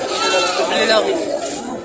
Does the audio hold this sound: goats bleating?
yes